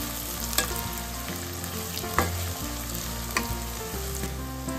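Vegetables stirred and fried in a pan for chicken gravy noodles, a continuous close sizzle with periodic scraping and clinking strokes of a spatula, steady and alone without speech.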